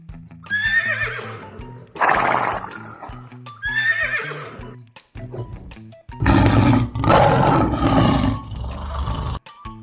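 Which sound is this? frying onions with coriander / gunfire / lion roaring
lion roaring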